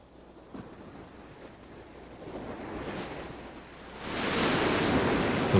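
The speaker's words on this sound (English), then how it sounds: "The waves that crash here are some of the strongest dashing against the United States coastline" Strong ocean waves crash against the rocks of the Washington coast, with the surf roar building gradually from a distant rumble to a loud, sustained wash, mixed with wind.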